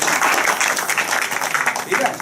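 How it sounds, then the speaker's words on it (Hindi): An audience at a gathering about Babasaheb Ambedkar in Khurja, Gautam Buddh Nagar, claps for a child, a steady, fairly loud patter of applause mixed with talking voices. "ताली बजाओ इस बच्चे"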